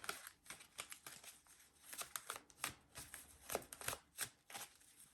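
Tarot cards are shuffled by hand, producing soft, irregular riffling and papery slaps in quick succession, close up and quiet, with no one speaking.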